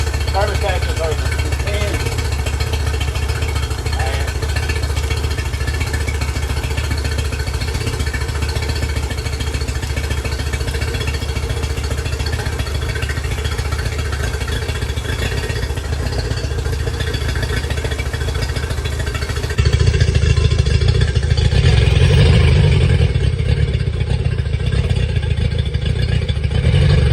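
A Yamaha 50 HP outboard motor, long unused and puffing black smoke, runs steadily and loudly throughout, its tone shifting and growing rougher as it picks up near the end.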